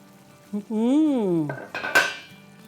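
A cooking pot lid is lifted off a one-pot kofta and potato curry, with a metallic clank, a brief voiced exclamation, then a bright clatter of the lid against the pot, close and fairly loud.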